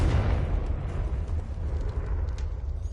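A deep, rumbling blast from the Confringo spell in the video game Hogwarts Legacy, a heavy low boom rolling on for a few seconds with crackling debris fading out, loud and alone.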